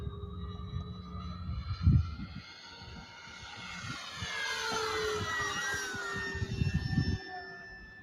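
A radio-controlled T-28 model airplane flies past, its engine whine rising and falling in pitch as it passes at moderate distance, with a couple of low thumps of wind or handling noise.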